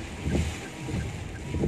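Strong wind buffets the microphone at the Weleri toll gate, a loud rough roar with low rumbling gusts that swell and ease over a steady hiss.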